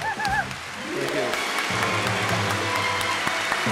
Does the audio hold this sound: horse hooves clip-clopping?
no